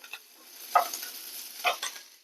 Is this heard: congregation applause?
no